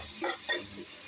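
Tomatoes with ground coriander, cumin and chilli powder are stirred in a sizzling pan, giving a steady hiss with two or three short scraping strokes; no voices.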